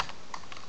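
A few quick keystrokes tapped on a computer keyboard during spreadsheet work, light clicks close by in a quiet room.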